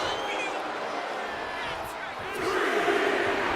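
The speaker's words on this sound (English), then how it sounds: "And now Breakker is playing to the crowd" Crowd noise fills an arena in the WWE 2K25 wrestling video game during a RAW match between LA Knight and Bron Breakker, a steady roar that swells slightly louder toward the end.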